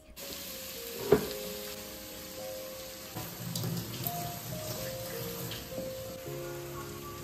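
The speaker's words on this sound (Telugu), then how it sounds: "కట్ చేసి పెట్టుకున్న ఆనియన్స్, పచ్చిమిర్చి యాడ్ చేసుకుని ఫ్రై చేసుకోవాలి." Peanuts, onions and green chillies fry in oil, making a moderate, continuous crackling sizzle with a few sharper pops and light stirring clatter, and no one speaks.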